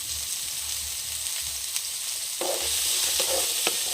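Onions frying with salt in a pan on a Kerala stove, a steady close sizzle with scraping stirs and a louder burst of frying near the end, no talking.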